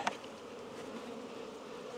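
Honey bees buzz during a hive split: a soft, steady swarm-like drone that fills the whole moment, with a brief tap at the start.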